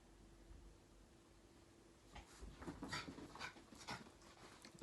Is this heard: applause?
no